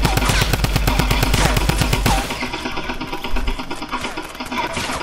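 Rapid automatic gunfire in a squad match in a shooter video game, a dense burst of close shots for about two seconds, then quieter scattered mechanical and ambient game sounds.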